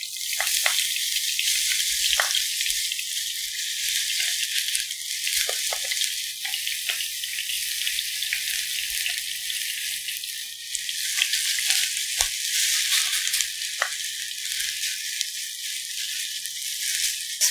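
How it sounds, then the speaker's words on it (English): Sliced potato for gamjajeon sizzles and fries in a hot pan, a steady bright crackling hiss with occasional pops and clicks, close and continuous without talk. "when the pan is enough hot, that time you put this sliced potato on the pan"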